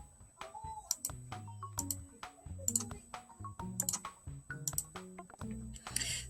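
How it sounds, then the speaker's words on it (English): Repeated button presses on a TI-73 calculator, the math key among them, give small plastic clicks and ticks in an uneven rhythm, close and fairly clear, with no talking. "So I am clicking the math key, which is directly under the second key on the left-hand side of the calculator"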